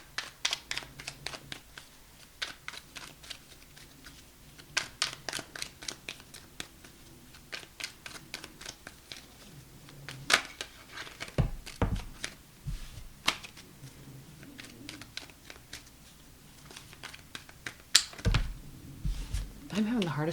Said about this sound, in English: I'm having the hardest time shuffling today.